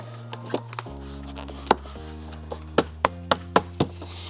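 Weather stripping on a Ford Focus RS car door being tapped into place: a series of sharp, close knocks and taps, irregular at first, then quicker toward the end, over a low steady hum.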